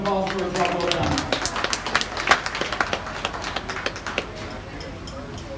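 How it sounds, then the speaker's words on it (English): Applause for the young exhibitors at a junior livestock steer show, a sustained wash of many hands clapping in a large arena, with sharper individual claps standing out and slowly thinning toward the end, no talk over it. "Let's give all these kids a round of applause for a job well done."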